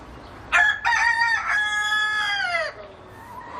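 A rooster crows next door in a residential neighbourhood, one long loud cock-a-doodle-doo close by, opening with sharp stuttering notes and holding a strained, wavering cry for about two seconds before trailing off into quiet.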